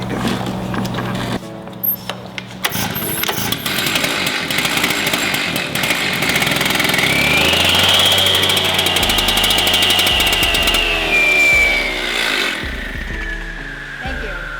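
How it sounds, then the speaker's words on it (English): A fire department chainsaw starts up and runs loudly, its engine revving higher and sustaining a harsh buzz before winding down, with voices heard at times. "we'll either pull it off with some tools and then use a chainsaw"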